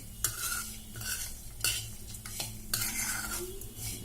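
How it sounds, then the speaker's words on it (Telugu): Poha flakes and nuts roasting in ghee are stirred in a pan: several scraping strokes sweep through a soft, steady sizzle, close and unhurried, with no talking. "ఈ అటుకులు కూడా ఈ నట్స్తో పాటు దీలో బాగా నెయ్యిలో వేగిపోయాయి"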